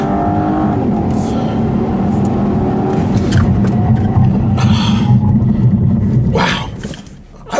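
A 2015 Volvo V60 T6 accelerates hard from a standstill toward 60 mph, its engine giving a loud, sustained rumble from inside the cabin that drops away abruptly near the end.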